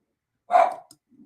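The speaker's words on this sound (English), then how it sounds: "Ignore the dog. Every time my husband leaves for work, she barks." A pet dog, a female, barks once sharply and close by, followed by a brief softer yelp and a low trailing growl-like murmur, in an indoor home setting with no talking.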